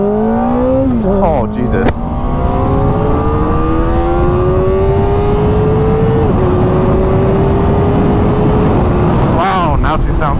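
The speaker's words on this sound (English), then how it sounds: "now she sounds like a real race bike" A Kawasaki ZX4RR motorcycle fitted with a new exhaust revs loud and close, its rising and falling engine pitch sweeping through several surges with sharp blips near the start and end, while a voice briefly exclaims.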